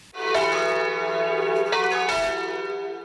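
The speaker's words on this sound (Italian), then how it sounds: "hanno suonato le campane" Church bells in a parish bell tower in Saletto ring out loudly and close, a sustained rich metallic tone with two fresh strikes layered over the lingering resonance.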